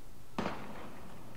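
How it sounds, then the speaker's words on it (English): A single sharp gunshot crack rings out in the war video game Valkyria Chronicles, a sudden burst that decays quickly into a faint tail, alone without speech. "Gunfire! Everyone,"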